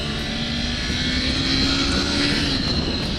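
A 2021 Honda CBR 500R motorcycle engine revving hard around 6,000 RPM while riding, a steady, loud, droning roar with wind rush that holds for the whole stretch.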